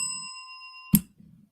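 A single bright bell ding rings out sharply over a faint background hum, then fades quickly in a quiet garage setting.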